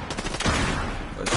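Gunfire in the battle game Fortnite, a dense burst of shots rattling close and loud through most of the moment, with a fresh volley near the end.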